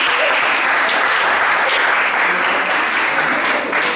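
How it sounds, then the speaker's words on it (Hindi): Loud, dense audience applause for a church youth age group of 13 to 25, held steady as continuous clapping for the whole stretch with no talking over it. "इस एज ग्रुप के लिए जोरदार तालियां।"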